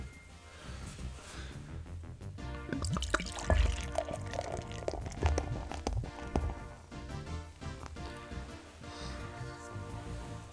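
Liquid poured into a container, a continuous splashing trickle with scattered drips and clinks, close and fairly quiet, running about ten seconds with no voices.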